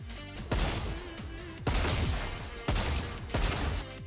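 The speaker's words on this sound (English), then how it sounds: "I start off by shooting 100 bots without using any movement" Gunfire in the Valorant practice range as bots are shot, four loud bursts of rapid shots in a steady rhythm with brief gaps between, close and dry.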